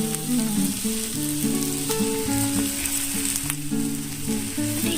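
Banana stem and fried brinjal sizzle in a pan for a vegetarian thor ghonto, a steady close frying hiss running alone under a bed of tonal background music.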